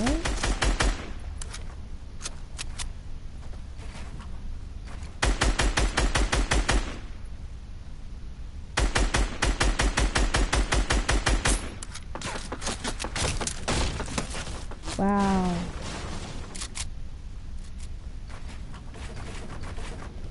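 Rapid machine-gun fire rattles in a video game, several long loud bursts with gaps between them, mixed with a player speaking.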